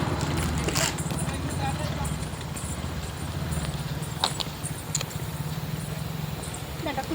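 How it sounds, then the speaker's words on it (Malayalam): Horses being ridden along a narrow path, their hooves clip-clopping steadily and fairly close throughout, under near-continuous talk and outdoor background noise. "കുതിര സവാരി ഇതിലേക്ക് കൂടിയാണ്"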